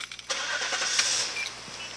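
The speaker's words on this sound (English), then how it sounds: "start the car" A car engine cranking and catching, with a short burst of starter noise followed by the engine settling into a steady running hum, moderately close.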